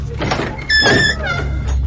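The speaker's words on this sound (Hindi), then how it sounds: "दरवाजे को पूरा खोल कर देखा" A door in a haunted flat swings fully open, its long creak rising and falling over a low background hum before fading out.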